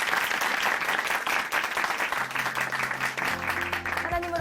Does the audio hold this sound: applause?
yes